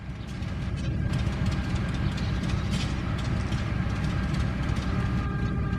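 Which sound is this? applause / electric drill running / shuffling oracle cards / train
train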